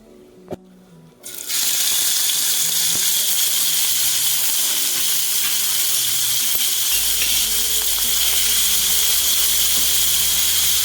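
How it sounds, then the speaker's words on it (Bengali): Small shrimp dropped into a little hot oil in a wok, bursting into a loud, steady sizzling hiss right after a few soft clinks, close up and continuing without talk. "কড়াটার মধ্যে সামান্য তেল দিয়ে আমি কিছুটা ছোট চিংড়ি মাছ ভাজা করে দেব"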